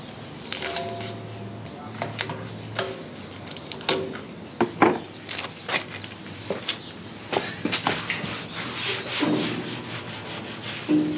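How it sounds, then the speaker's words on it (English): Intermittent scratchy rubbing strokes of 100-grit sandpaper on epoxy primer over a motorcycle fuel tank and fairing, irregular bursts with pauses between them, fairly close. "Now I'll be sanding the epoxy primer with 100 grit, only in the crucial areas"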